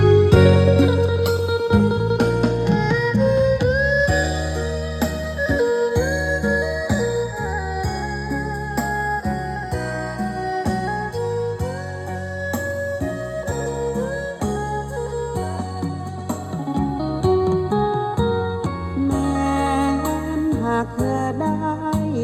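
Upbeat Thai country music plays continuously with melody, vocals and steady bass, sounding full and amplified through a DIY Bluetooth speaker outdoors, heard from about ten meters away.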